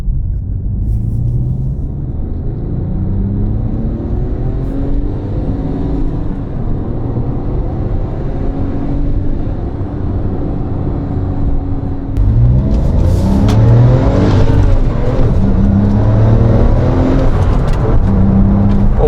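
Manual 2007 Porsche 911 Turbo accelerating from the cabin, a loud engine drone that climbs through the revs, drops at a gear change and then surges harder through the next gear with a rising whir.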